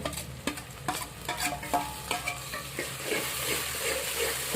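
Tomatoes frying in hot oil in a pan for tomato rice, a steady close sizzle broken by a few sharp scrapes and clicks of a spoon stirring, with no voices.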